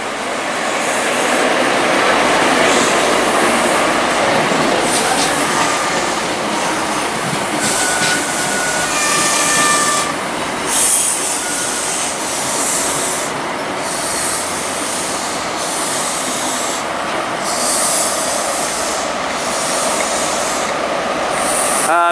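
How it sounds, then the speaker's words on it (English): Great Western train 43185, an HST bound for London Paddington, arriving at Reading station: a steady loud rumble of wheels and engine with brief metallic squeals, close by and with no voices. "Now arriving in is Great Western with 43185, the service bound for London Paddington."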